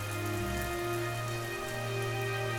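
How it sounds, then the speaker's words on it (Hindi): Dense, steady rain hisses continuously, loud and close, with a low tonal drone running underneath throughout. "भारी बारिश हो रहा था"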